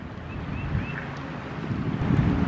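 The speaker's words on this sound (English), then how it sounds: "The wind is making it quite brisk out here this morning." Brisk morning wind gusts across the microphone outdoors, a continuous buffeting roar that swells slightly toward the end, with no voices.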